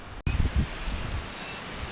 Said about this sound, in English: it's definitely some severe gusts out here, which was forecasted for the exposed peaks